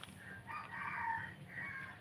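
A rooster crows once in a long, drawn-out call that rises and holds, fairly close, over a quiet outdoor background with no speech.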